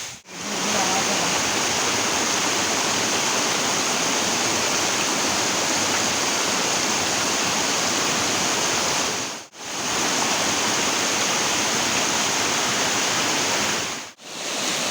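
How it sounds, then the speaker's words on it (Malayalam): Stream water at Kallampara Chola waterfalls flows in a steady, loud broadband rush that fills the whole stretch, with two very brief dropouts and no voices. "ഇതിലൂടെ ഒരു ചോല പോലെ അങ്ങോട്ട് ഒലിച്ചൊലിച്ച് താഴത്തേക്ക് പോവാണ്"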